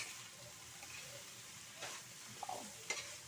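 Anchovies (dilis) crackle and sizzle in a pan as they fry until crispy, a steady hiss with occasional louder pops and a scrape of stirring near the end, no voices.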